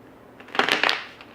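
A deck of tarot cards is briefly shuffled up close, a short burst of riffling and flicking clicks lasting under a second amid an otherwise quiet room.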